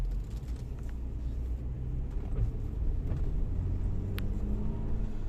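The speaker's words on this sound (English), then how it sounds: "we're stuck in a traffic jam" Low, steady rumble of cars idling and creeping in a traffic jam in downtown Polis, Cyprus, heard as a continuous engine drone close by with no talk.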